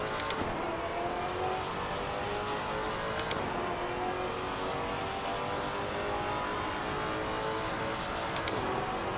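A Maserati GT4 race car in the sim racing game Assetto Corsa Competizione accelerates at a rolling start at Indianapolis, its engine note climbing steadily through gears with a dense, continuous roar and other cars nearby.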